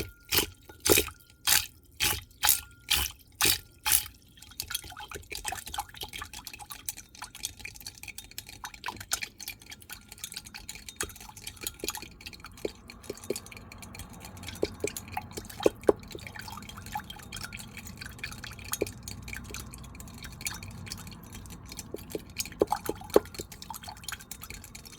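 A 30% tromethamine solution is mixed at low shear: quick rhythmic clicking at the start, then soft liquid swirling, sloshing and occasional clinks against the container, close with no talk.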